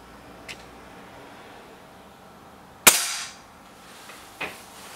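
BSA Lightning SE air rifle firing at a target: one sharp, loud crack followed by a short tail, with fainter ticks around it in a quiet outdoor setting.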